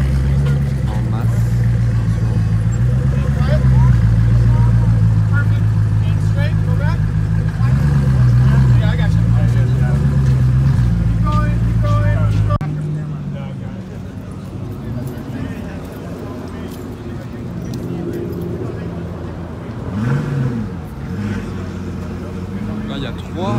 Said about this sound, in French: Là il y a 3 Huayra BC qui arrivent ensemble. Et celle-ci a l'échappement modifié.